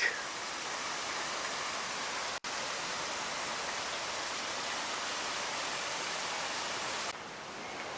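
Rushing river waterfalls pour in a steady, loud broadband roar, unbroken except for one instant dropout near the middle and a slight softening toward the end.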